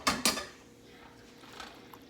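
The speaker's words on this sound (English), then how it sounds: "And I will stir it around just a little bit." A utensil scrapes and clanks twice against a pan while buffalo chicken pasta with hot sauce is stirred, two sharp close knocks at the start followed by quieter faint movement.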